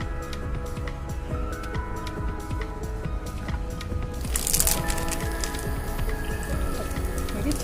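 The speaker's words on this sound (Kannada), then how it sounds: "ಆಯಿಲ್ ಹಾಕೊತಾ ಇದ್ದೀನಿ." Oil pours into a cooking pan and begins to sizzle, a close wet trickling that swells into a brighter spattering hiss partway through.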